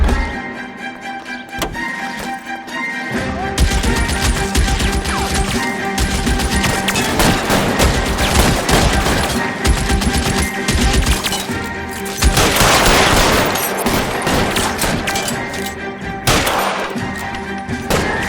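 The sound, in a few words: gunfire in the video game L.A. Noire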